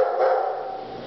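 A single dog bark or yip rings out close by, a short sustained vocal burst followed by a fading tail.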